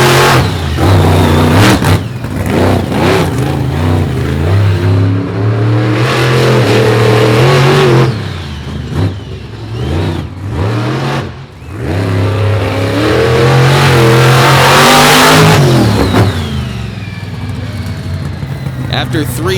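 A Chevrolet racing truck roars past during a qualifying session at a track, its engine loud and sustained with rising and falling revs, heard beneath steady commentary.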